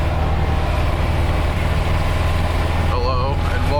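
A Nissan 240SX engine with a blown-out hole in the exhaust at the resonator runs loud and steady, a low, raspy drone filling the whole clip with a sharp rising pitch change near the end.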